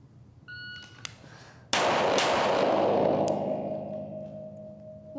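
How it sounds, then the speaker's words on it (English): A handgun is fired at 5 yards during live-fire training. A shot-timer beep comes first, then one loud, sharp report with a long ringing decay, followed by fainter clicks. "So I'm gonna shoot this at 5 yards again."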